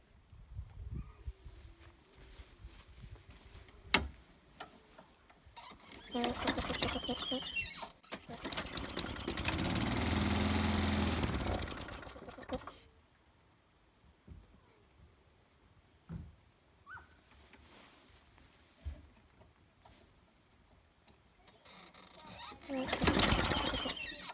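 A lawn mower engine catches and runs loudly for about four seconds before dying out, surrounded by pull-cord tugs, clanks and quieter mechanical noises, with talk nearby.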